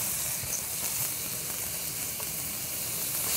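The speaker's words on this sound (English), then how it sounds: "what we're going to do here is we're just going to saute them a little bit" Mushrooms sautéing in a pan, a continuous close hiss and crackle of sizzling that holds steady throughout without any talking.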